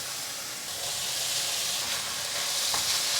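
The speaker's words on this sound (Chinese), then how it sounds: "快速翻炒" Glass noodles and king oyster mushrooms stir-fry in oil in a wok, a bright steady hiss that swells midway, with a soft clatter of tossing and no voices.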